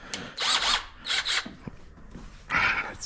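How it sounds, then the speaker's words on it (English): A handheld power drill runs in several short bursts, whirring up and stopping in a stop-start rhythm, close and fairly loud with no talking. "here I am with my drill."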